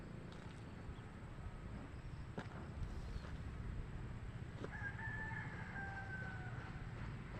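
A wild chicken (labuyo) crows once in the middle distance, a drawn-out call over faint outdoor background noise, with no voices.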